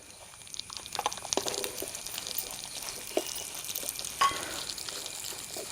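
Chopped almonds and raisins fry in a pan for rava laddu with a soft, steady sizzle, broken by scattered stirring scrapes and light clinks close by.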